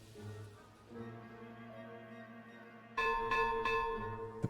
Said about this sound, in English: The bell is so loud.